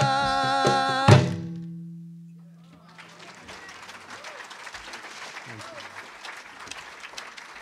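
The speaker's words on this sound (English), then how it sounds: "Snap, clap. Second. Clap, clap. Snap, clap." A group claps and snaps together at a live-streamed gathering at Lake Junaluska, a dense run of quick claps that follows a held, fading sung note and continues steadily at moderate loudness.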